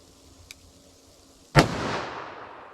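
A single loud, sharp gunshot from a .357 Magnum revolver with a 4-inch barrel cracks close by after a faint click, then echoes and decays outdoors.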